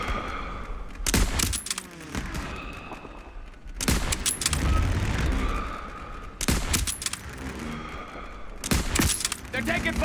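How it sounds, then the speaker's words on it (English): Rifle and machine-gun fire in a World War II street battle in Call of Duty WWII, coming in loud rattling bursts separated by brief lulls, with shouting voices mixed in. "They're taking fire from behind!"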